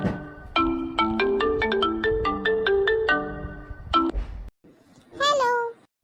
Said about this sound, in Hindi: से फोन की आवाज आती है